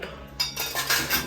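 A metal ladle clinks among a pile of kitchen utensils: a quiet start, then a run of close, bright metallic chinks and rattles lasting about a second.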